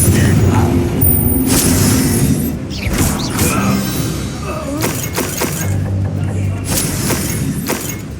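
Confringo spell blasts in Hogwarts Legacy battle, loud shattering explosions and crashing debris with heavy thuds, several impacts layered over a rumbling game soundtrack, with a voice casting spells at times.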